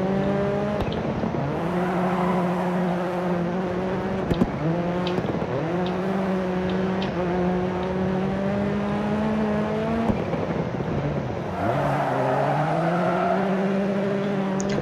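Rallycross car in DIRT 4 revving hard through the gears, its loud engine note repeatedly climbing and dropping with shifts and braking, with occasional tire scrabble, sustained and close throughout.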